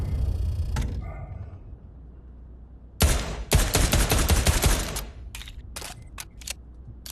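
WW2 guns fire at a shooting range in the Pavlov VR video game, a dense burst of rapid shots followed by a few scattered single cracks, preceded by quieter handling noises.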